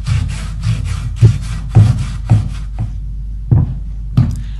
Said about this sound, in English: take a piece of sandpaper wrapped around a piece of piping and sand the pieces wherever needed to get them to fit the tank